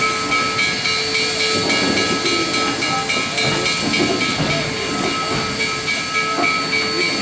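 Coal-fired steam locomotive on a scenic mountain railroad letting off a steady, loud hiss of steam that runs continuously throughout, with faint mechanical rumble beneath and no voices.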